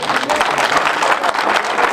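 At a village campaign rally for the Georgian Dream party, an outdoor crowd claps steadily and loudly throughout, a dense wash of hands with no pause.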